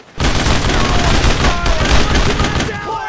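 Loud, dense gunfire from the video game Brothers in Arms: Road to Hill 30 rolls as continuous automatic bursts and overlapping shots, with faint voices mixed in beneath the fusillade.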